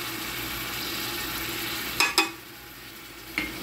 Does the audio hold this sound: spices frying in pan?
yes